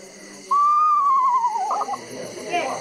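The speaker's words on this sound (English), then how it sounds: "That's the sound of this guy right here, the eastern screech." A recorded eastern screech owl call plays back: a single descending, wavering whistled whinny, loud and close, trailing into a brief quaver with faint background noise.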